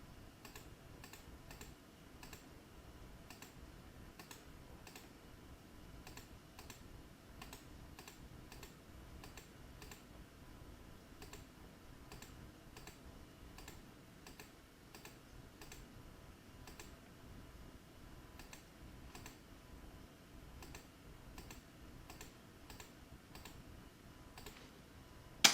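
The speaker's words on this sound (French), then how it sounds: "J'appuie sur la touche entrée" Quick, light key presses on a computer keyboard while working in GIMP, a faint, steady stream of sharp clicks with short pauses between bursts.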